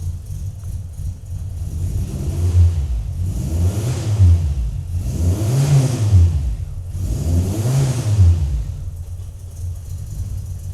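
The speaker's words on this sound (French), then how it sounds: "C'est la première fois que je peux accélérer un petit peu avec." A sleeper car's engine revs up and falls back in three or four strong swells over a steady rumbling idle, loud and close, with no talk.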